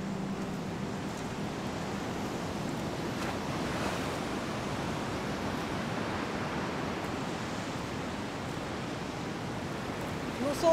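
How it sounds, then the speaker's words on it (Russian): Gentle sea waves wash steadily along a shore in a broad, continuous rush with no distinct breaks, steady and moderately loud throughout. "Волна немножко есть."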